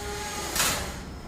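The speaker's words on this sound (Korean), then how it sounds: "아파트의 정문이 닫히는 소리." An apartment building's front door shuts in one brief, muffled thud over low background hiss, with no one speaking.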